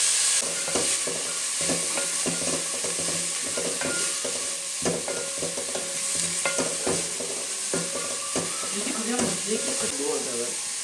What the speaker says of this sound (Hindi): पहले शिमला मिर्च और गाजर को ही फ्राई करूँगी।